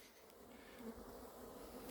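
Honeybees from a swarm being collected at Varennes-sur-Seine buzz steadily and close, a dense continuous hum with slight swells, some bees agitated and attacking.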